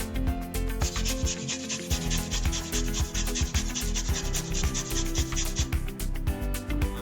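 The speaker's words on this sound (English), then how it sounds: "we're going to grate in just a little bit of ginger" Fresh ginger rubbed against a grater for fried rice, a steady close rasping scrape repeated in quick strokes, continuing without pause and with no talking.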